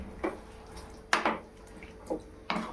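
A spoon stirs amra (hog plum) chutney with dried chilli powder in a pan, giving a few separate scraping clinks spaced about a second apart, close and fairly quiet, with no talk.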